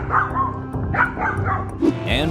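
A dog facing off against a bear lets out a rapid series of sharp barks and yips, some rising into whimpering cries, close and loud against background commotion.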